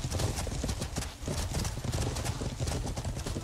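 Horses in the medieval game Life is Feudal pounding along at a gallop, with dense overlapping hoofbeats, thudding and loud, and a brief whinny in a busy battle.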